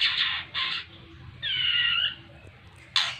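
Female white-rumped shama in a polygamous breeding setup feeding her chicks, with bursts of harsh squawking and begging calls, close and repeated in short spells over quiet background.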